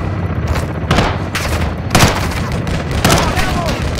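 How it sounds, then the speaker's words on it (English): Belt-fed machine gun fire in the Modern Warfare II campaign rattles in continuous loud bursts, with heavier booming hits punctuating the steady clatter throughout. "Taking belt-fed fire from beneath the tower."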